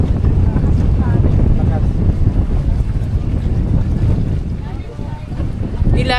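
A sea ambulance boat pushes through rough, wavy sea, with heavy low engine rumble, wind buffeting the microphone and water slapping the hull close up, while people talk faintly underneath.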